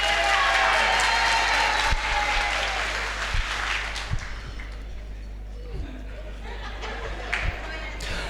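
Applause from a resort audience at a Saturday night choir show swells at first, then thins and fades into scattered claps and crowd chatter.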